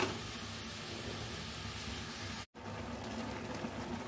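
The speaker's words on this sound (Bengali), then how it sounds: "চিকেনটা আর আলুটা পেঁয়াজটা সেদ্ধ হয়ে যাবে, সেই হিসাবে আমি জল দিয়ে দিলাম" Water pours steadily into a pot holding chicken, potato and onion, a continuous close rushing and splashing that breaks off briefly midway and then resumes.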